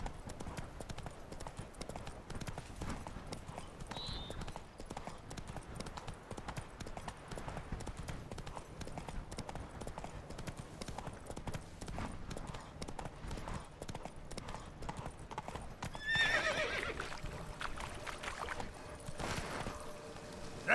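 Roach the horse galloping in The Witcher 3, a continuous fast rhythm of hoofbeats throughout with a brief neigh-like burst near the end.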